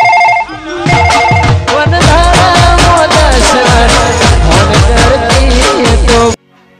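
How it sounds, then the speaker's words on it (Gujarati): A loud phone ringtone plays close by, a rhythmic melodic tune with a steady thumping beat that runs for several seconds and then cuts off abruptly. "લાય તો પ્રકાશને ફોન કરવા દે તો ફટાફટ"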